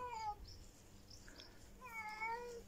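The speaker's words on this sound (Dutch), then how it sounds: "Ik haat die geluiden van krolzige katten" Two drawn-out, wavering yowls from cats in heat, one at the start and another after a pause, sounding faint and plaintive against a quiet background.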